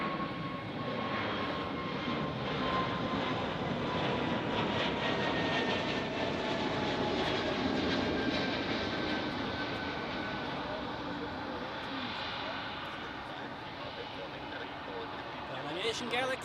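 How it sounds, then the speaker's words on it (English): An Air Baltic Airbus A220 jet departs from runway 6 at Zurich airport, its engines a steady broad roar heard from an observation deck, with talk alongside. "There's an Air Baltic A220 departing now on the run 6"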